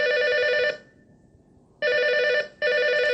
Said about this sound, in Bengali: দাদা, ফোনটা ধরে আসি।